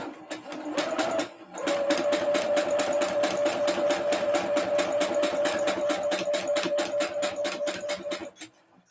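A sewing machine stay-stitches the fabric edge of a corset top, giving a steady rhythmic rapid clatter for several seconds after a brief start-stop, close and loud with no talk.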